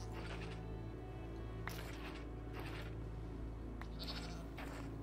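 Goats bleat in short bursts over a steady low hum in a video game, several calls scattered through the clip, fairly close by.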